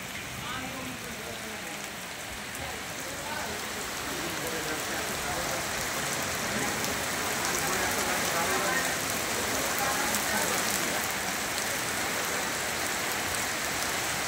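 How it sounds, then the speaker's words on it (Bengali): Steady afternoon rain falls continuously, a dense even hiss of drops on surfaces that holds at a constant, moderately loud level throughout with no pauses. "ঠিক 2টার থেকেই বৃষ্টিটা শুরু হয়েছে।"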